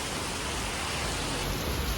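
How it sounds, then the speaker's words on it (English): Heavy rain pouring continuously in Phuket, Thailand, a dense, even hiss of downpour filling the whole moment with no breaks, steady and moderately loud. "the rain is pouring heavily"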